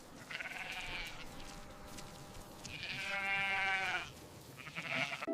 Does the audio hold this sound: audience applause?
no